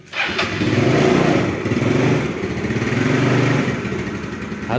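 A Yamaha Mio Smile scooter engine cranks and catches, then idles steadily with a buzzing putter close by, revving slightly near the end.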